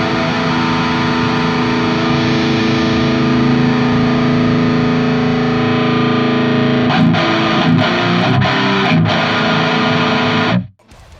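An electric guitar plays through a Mikko2 cabinet simulator with the virtual mic tilted to 90 degrees. It gives loud, distorted sustained chords and then several choppy, muted strums before stopping abruptly. There is no talk.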